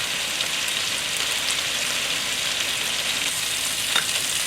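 A pork chop sears in a frying pan for an Asian-style dish, giving a steady, loud, dense sizzle and crackle with no pauses and no voices.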